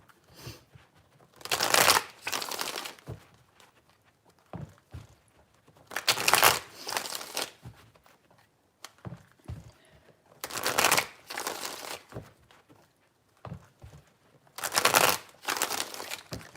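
Tarot cards being shuffled by hand, heard as four separate bursts of brisk riffling and papery flutter, each lasting about a second or two, with quiet pauses between them.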